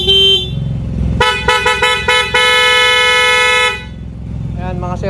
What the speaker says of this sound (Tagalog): solid na solid yung tunog ng busina.